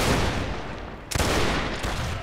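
Musket volley fire in a multiplayer battle video game, a dense, noisy roar of many shots overlapping, with a sharp burst of fresh firing about halfway through, steady and loud throughout.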